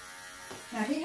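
Electric grooming clippers buzzing during sanitary trimming of a Schnauzer, a brief motor hum that rises in pitch as the blades engage, close and faint with a voice briefly present.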